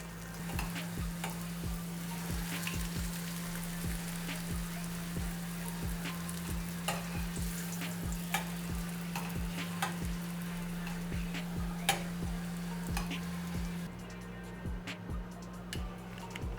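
Vegan crab rangoon frying in oil heated over medium heat, with a steady crackling sizzle and rhythmic light ticking and stirring sounds throughout, close and continuous with no talking.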